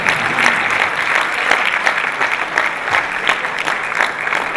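Audience applause at a poetry recital, a mushaira in Abu Dhabi, where a dense crowd claps steadily and loudly throughout, a continuous wash of hand claps with no voices standing out.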